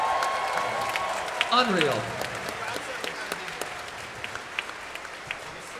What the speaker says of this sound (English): So give them a round of applause, the AV team.